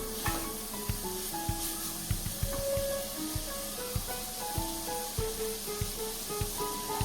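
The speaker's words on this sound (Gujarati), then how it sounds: "આ રીતે થોડી વાર ચલાવીશું ને એટલે બધો વઘાર મસાલા અંદર નાખેલા છે ને ચણાની દાળમાં" Chana dal stirred through a sizzling spiced tempering for khichdi, with a steady hiss of frying under repeated scraping and stirring knocks of a spoon against the pot.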